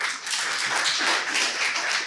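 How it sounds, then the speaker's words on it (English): A conference audience gives a steady burst of applause after a keynote talk, dense clapping that holds evenly throughout. "A hand of applause."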